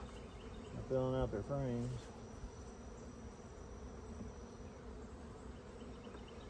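Honey bees hum steadily around small mating nucs in an apiary, a continuous low drone that carries on after someone speaks briefly near the start.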